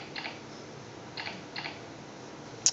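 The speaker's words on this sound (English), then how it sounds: "It's got a nice little HTML5 audio click sound to give you confirmation" A few light, brief clicks sound at uneven intervals, like key taps on a 42-inch multi-touch on-screen keyboard in HTML5, ending with one sharper, brighter click.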